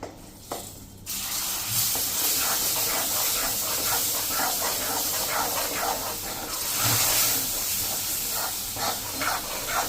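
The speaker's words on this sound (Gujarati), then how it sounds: "તો હવે આ સ્ટેજે આપણે 3 થી 4 ચમચી જેવું આપણે દૂધ નાખી દેશું. એકી સાથે નહીં નાખીએ પણ થોડું થોડું કરીને આપણે 1-1 ચમચી નાખશું." Milk spooned into a hot, bubbling sukhdi mixture of wheat flour and ghee gives a loud hissing sizzle. It flares up after about a second and holds steady, with small bursts through the pour.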